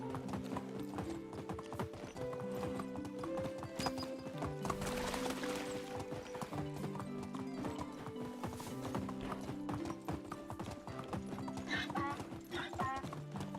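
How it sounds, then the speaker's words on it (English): Horse hooves clip-clop steadily while riding in the Medieval Dynasty video game, a continuous rhythmic trot over background game music with occasional neighs. "Why does this horse have such poor stamina?"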